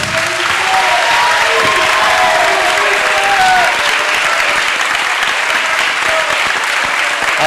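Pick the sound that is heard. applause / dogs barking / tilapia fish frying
applause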